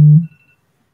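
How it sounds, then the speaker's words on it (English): A phone's scheduled alarm tone sounds once, loud and close, as a short buzzy beep that cuts off and fades quickly into silence. "that is my phone, which is letting me know that it is 4 p.m."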